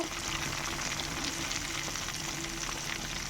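Crabs deep-frying in hot oil give off a steady, dense sizzle and crackle that holds an even level throughout, with no voices.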